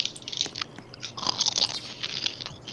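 A video game character chewing pizza: close, crunchy bites and wet mastication repeating steadily for a few seconds, with no talk.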